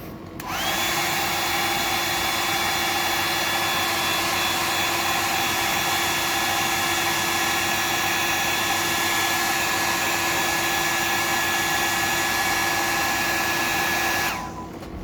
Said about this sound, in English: I'll just dry that off